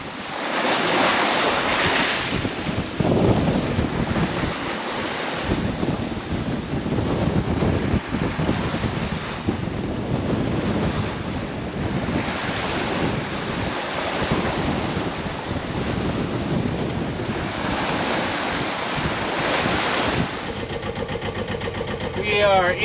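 Steady gusty wind buffeting the microphone over rough sea in the Hauraki Gulf, with continuous wave wash and surf noise throughout and no breaks.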